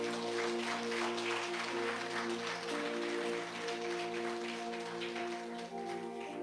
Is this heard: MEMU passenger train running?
no